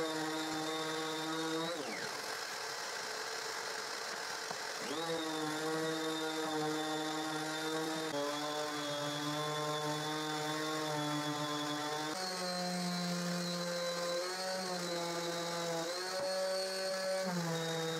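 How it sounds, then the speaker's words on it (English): A power sander works the cuts on a wooden pallet garden chair, its motor whining steadily and loudly for the whole stretch, the pitch dipping and shifting as pressure on the wood changes. "And I sand all the cuts I made."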